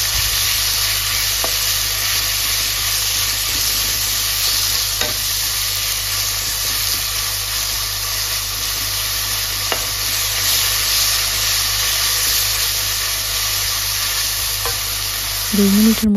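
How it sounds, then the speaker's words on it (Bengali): Onions frying in salted oil with five-spice seeds in a pan for eggplant curry, a loud constant hiss and sizzle with occasional faint stirring clicks, heard close up and without talking. "লবণ দিয়েছি আমি পেঁয়াজ লাগিয়ে দিলাম"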